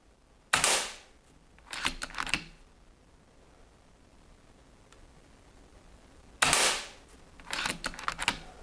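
Two sharp shots from an FX Impact M3 air rifle ring out about six seconds apart. Each crack is followed by a quick clatter of the action being cycled, against a quiet background.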